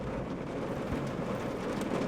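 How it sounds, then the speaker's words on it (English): Heavy rain pours steadily outside at night, a dense unbroken roar with faint low rumbles that may be distant thunder, constant and fairly loud throughout. "I wasn't expecting it to be raining this hard."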